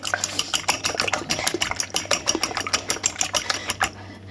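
Five eggs are whisked briskly into batter for chops in a bowl, giving a fast, steady run of clinking and tapping strokes that carries on for several seconds and then stops.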